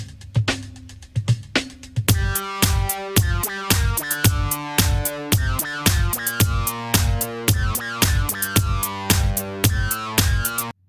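Synth lead made in the Caustic app from two sawtooth oscillators, one dropped an octave: a buzzy, punchy line of short repeated notes in a steady funky rhythm, played alone and loud.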